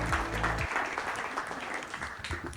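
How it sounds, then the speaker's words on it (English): Audience applause for the panelists of a session at a K-12 education panel conference, a steady crowd clapping at moderate level after a brief low hum at the start. "Can we have a round of applause for all the panelists for this session?"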